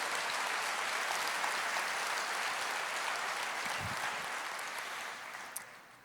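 A church congregation applauds in praise, a dense, continuous wash of clapping that holds steady and then gradually fades toward the end.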